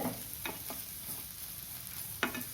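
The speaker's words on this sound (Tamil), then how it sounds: "வதக்கிறதுக்கு இந்த எண்ணெயே போதுமானது." Ridge gourd peel sautéing in oil in a pan, a soft continuous sizzle with a few spatula scrapes and stirring knocks, quiet and close, with no talking.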